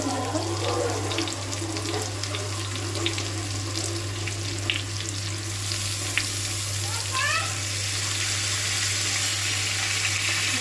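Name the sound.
rice and potatoes frying in oil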